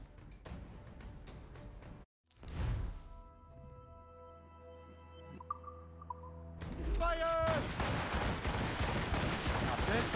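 A Puckle Gun fires aboard a ship in Assassin's Creed Rogue, loud booming blasts after a brief silence, followed by ringing tonal hum and a dense final barrage, with voices over the action.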